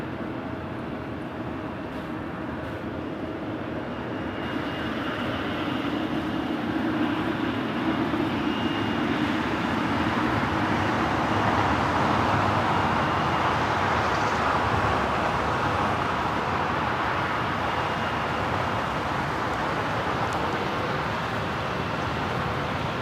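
An airliner taking off from runway 25 right at LAX roars as a loud, continuous jet engine rumble that builds and holds steady across the clip, heard from a distance without talk.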